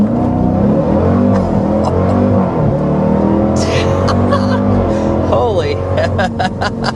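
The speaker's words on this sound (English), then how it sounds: "the supercharger whine is like something you notice immediately as soon as you start driving this vehicle" A 2026 Dodge Durango Hellcat Jailbreak's supercharged V8 roars loudly under hard acceleration, a steady close engine drone with high supercharger whine rising through gear changes, while a person talks over it.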